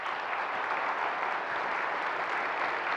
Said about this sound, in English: I think that deserves an amazing round of applause